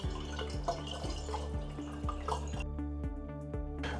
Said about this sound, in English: let's just pour that in there, and as you can see, we can just fill this bottle up